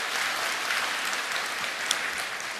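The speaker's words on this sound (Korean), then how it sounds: "박수로 좀 이 가정 격려해 주시겠어요?" Church congregation applauding in a sanctuary, a steady, dense wash of clapping that holds at an even level for a few seconds without any voices.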